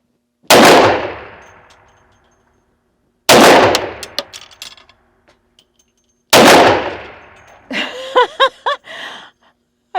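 A Coonan Classic .357 Magnum fires three loud, widely spaced shots, each ringing off a steel target with a metallic clang and decay; a voice speaks briefly after the last shot.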